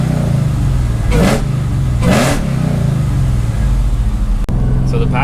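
A Hellcat-swapped Dodge Dakota's engine roars close by over a steady idle rumble, rising in two sharp rev bursts a second apart. Someone may be talking faintly underneath.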